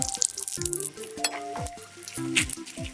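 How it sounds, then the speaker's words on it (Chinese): Slices of luncheon meat sizzle in oil in a small pan, a steady close crackle broken by a few light clinks and scraping touches of a utensil, with no talking. "继续煎午餐肉，煎至两面金黄。"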